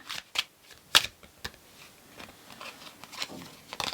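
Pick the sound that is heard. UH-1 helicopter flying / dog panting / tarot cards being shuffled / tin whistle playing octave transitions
tarot cards being shuffled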